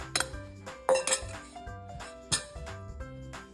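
Sourdough starter being mixed with unbleached bread flour in a jar gives off a series of bright clinks and scrapes of a utensil against glass, coming in irregular bursts, close and fairly quiet, with no one speaking.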